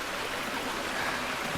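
A low creek flows beside a hiking trail near Beaver Lake in Sitka, Alaska, giving a steady, close, broadband rush and trickle of water that carries on without a break and with no talk over it.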